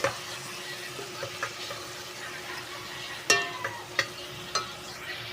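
Chicken sautéing in a pan for Filipino tinola, with a soft steady sizzle under several sharp metallic spoon clanks and scrapes as it is stirred; close and fairly quiet, with no one talking.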